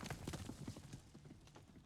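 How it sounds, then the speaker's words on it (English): In the video game Above Snakes, a horse's hooves clip-clop in a quick uneven series of soft thuds, about a dozen steps, fairly quiet and close, fading slightly toward the end with no talking. "Oh, there's the horse."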